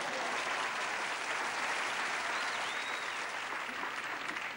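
A magic show crowd gives a dense, even wash of applause after an old rubber chicken gag, steady and moderately loud throughout with no voices standing out.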